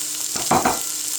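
Sliced onions going into a pan and starting to fry, a brief burst of sizzling and stirring rising out of a soft background hiss, close and short.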